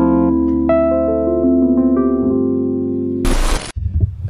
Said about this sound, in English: Wurlitzer, a brand known for its jukeboxes, also released some electric pianos, and the 200A probably being the most famous one.